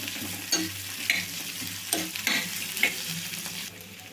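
Onions, curry leaves and garlic fry in a pan with a steady close sizzle, joined by a few scraping stirs of a spoon against the metal. No one speaks.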